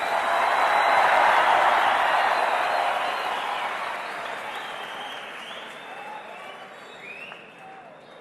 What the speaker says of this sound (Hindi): ये आपके तालियों की गूंज पोरबंदर तक सुनाई जा रही है।